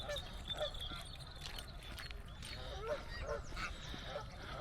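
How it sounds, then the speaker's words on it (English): Geese honking repeatedly at a model boating lake in a park, scattered calls of moderate distance over faint outdoor ambience. "You can probably hear the geese."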